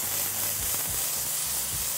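Chicken pieces hiss and sizzle in a hot pan as soy sauce hits the residual heat, a steady close-up frying noise with a few soft thumps of the pan being tossed.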